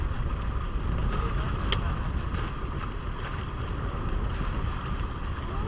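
Strong wind buffeting the microphone in a continuous roar, with the sound of a Hobie Cat sailing catamaran on water underneath during a sea trial, and faint voices.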